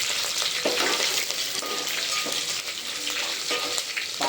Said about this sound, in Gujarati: વઘાર થઈ ગયો છે